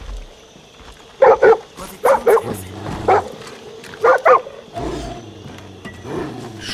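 A dog in the video game Far Cry 5 barks in rapid pairs, loud and close, over a low background rumble of game ambience.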